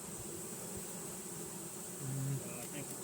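Honeybees buzz steadily around an open beehive super outdoors, a dense continuous hum with individual bees droning past close by.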